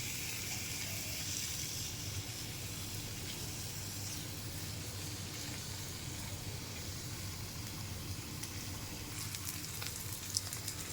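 Puti fish frying in oil, a steady close sizzle and hiss holding evenly throughout with no talking.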